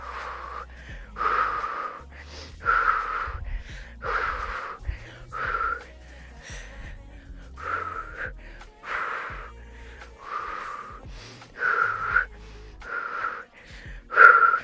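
Quick, forceful breaths repeat in bursts during a Pilates exercise with small arm pulses, close and rhythmic with short pauses between sets.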